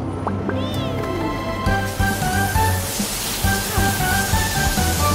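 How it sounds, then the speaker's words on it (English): Cartoon car wash being upgraded to spray paint a truck gives off a broad, steady hissing spray that starts partway through and continues under bright background music. "We're just upgrading the car wash so it can spray paint."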